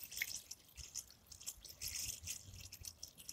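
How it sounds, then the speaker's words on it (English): Water poured into a seed tray of sown plot seedlings, heard as soft close trickling and dripping splashes spread irregularly across the few seconds, faint and without talk. "I'm adding water."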